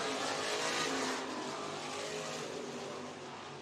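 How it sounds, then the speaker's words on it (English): Winged sprint cars race on the dirt oval at the Kossuth County Fairgrounds speedway in Algona, Iowa, their engines a distant roaring drone that swells briefly and then fades, heard alone without commentary. "the return of wing sprint cars at the Kossuth County Fairgrounds"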